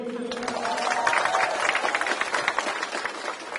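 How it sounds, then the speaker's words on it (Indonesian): A seated audience at a formal speech event gives dense, moderately loud applause that swells and then holds steady. A faint voice trails off at the very start. "Kita beri tepuk tangan sekali lagi."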